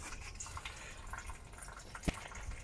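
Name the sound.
coolant draining from a Toyota Yaris radiator tap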